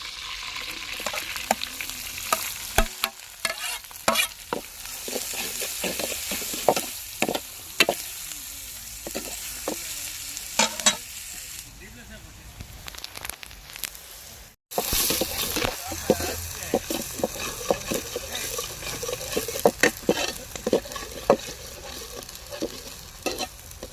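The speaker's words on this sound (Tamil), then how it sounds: "பச்சை மிளகா ஒரு 10 பச்சை மிளகா, 1/2 கிலோ வெங்காயம் போட்டுக்குருவோம்." Green chillies and onions sizzle in hot oil in a pan for a village-style quail egg gravy, with steady frying hiss and repeated scraping stirs throughout, briefly cut off midway before resuming.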